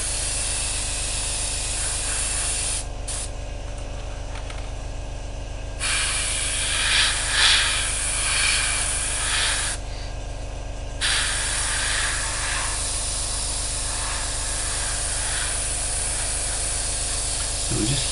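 An airbrush sprays paint onto an Academy 1/48 scale Raptor model, a close, continuous airy hiss that cuts out for two short pauses before resuming, with no talking.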